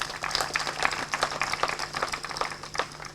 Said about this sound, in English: Guys, you need to clap for them.